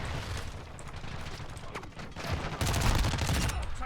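Rapid automatic fire from a Lachmann Sub submachine gun in a video game comes in dense bursts. The shots grow louder near the end and play over the game's background sounds, with no talking.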